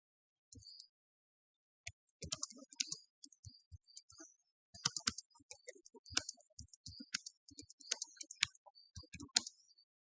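Computer mouse clicks come in quick irregular bursts with short pauses between them while someone works in the LinkedIn ads interface, crisp and close with no talk.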